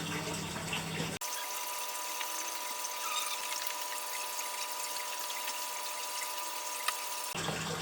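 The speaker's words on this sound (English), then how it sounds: "acclimate it slowly while I fill this tank up" An aquarium tank fills with water from a pump or tap, a steady close hiss and rush of flowing water running almost the whole time.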